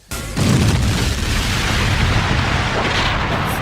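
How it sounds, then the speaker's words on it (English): Cartoon missiles fire and explode in the 1996 Sonic the Hedgehog animation, with a sudden loud blast swelling into a sustained, dense rumbling roar that holds at full strength for several seconds. "He fires missiles as well to totally eradicate Sonic."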